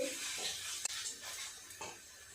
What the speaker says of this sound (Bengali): আর একটু সময় নিয়ে 2-3 মিনিট সময় নিয়ে এইভাবে মশলাটাকে একটু কষিয়ে নেব।